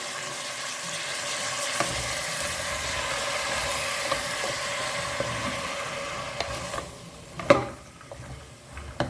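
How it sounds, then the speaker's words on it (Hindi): Pav bhaji with toor dal being stirred in a pan, a steady soft sizzle and scraping under a faint background hum, with a few clinks of the spoon against the pan near the end. "अब इसे ना अच्छे से मिक्स करते हैं"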